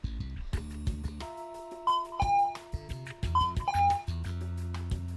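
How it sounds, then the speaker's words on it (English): A video game doorbell at a house, chiming like a convenience store entry bell, rings two clear two-tone ding-dong phrases over a low, rhythmic background music bed. "Why does it sound like a convenience store doorbell?"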